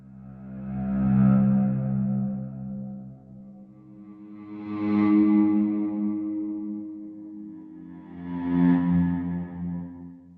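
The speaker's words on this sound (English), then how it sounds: "I basically took a guitar sample and reversed it and moved the notes around." Three swelling guitar tones that fade in and cut off, like notes played backward, each washed in reverb; slow, spaced evenly, with no voices.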